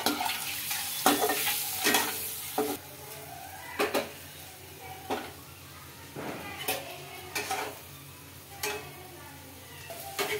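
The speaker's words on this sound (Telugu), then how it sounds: "అందులోకి కొద్దిగా కారం, కొద్దిగా పసుపు వేసి బాగా ఎగ్స్ ఫ్రై చేసుకోవాలండి" Boiled eggs fry in oil with chili powder and turmeric for egg dum biryani, a soft sizzle under repeated clinks and scrapes of a spoon against the pan, close by and without talk.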